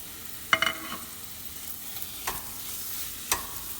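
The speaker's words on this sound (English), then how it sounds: "mix them with your onions and let them saute" Beef sautéing with browned onions in a pan for Persian gheymeh, a steady sizzle broken by a few distinct spoon scrapes and stirring clinks.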